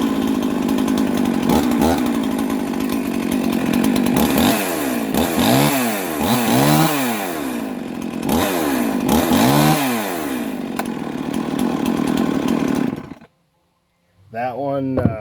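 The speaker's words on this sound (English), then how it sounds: "she cranks up pretty good. The 55, again, nothing special, but it's been a real trusty saw for me." A 55 chainsaw runs loud and close, idling then revving repeatedly in sweeping rises and falls, before cutting off abruptly near the end with a brief sputter after.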